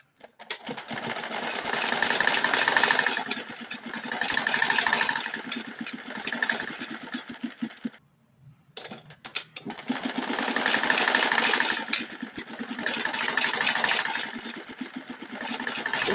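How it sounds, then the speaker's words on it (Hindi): A sewing machine stitches the sleeve of a simple kurti in two long, steady runs of rapid mechanical whirring, loud and close, with a brief pause near the middle before it starts again. "इस तरह से पहले हम इस पर सिलाई लगाएंगे।"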